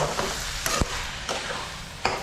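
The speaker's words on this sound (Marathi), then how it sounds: "मी हे गॅस बंद करते आणि हे सगळं मिक्स करून घेते" Eggplant bharit, a mashed brinjal dish with raw onion, being stirred and mixed in a pan off the heat: a few soft scraping strokes and taps over a faint background hiss, close and fairly quiet.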